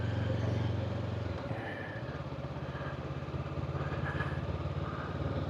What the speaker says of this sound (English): I do enjoy riding this bike.